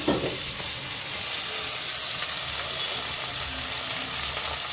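Tomatoes frying with masala in a pan for a Sankara fish curry, giving a steady, close broadband sizzle that runs unbroken under light cooking sounds.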